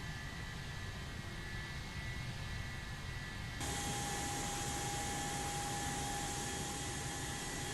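An airliner coming in to land in the X-Plane 11 flight simulator: a steady jet roar that swells sharply partway through and holds loud with a faint whine, no voices.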